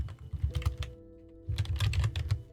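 Quick bursts of typing on a computer keyboard, close and fairly quiet, with a short pause between two clusters of rapid key clicks.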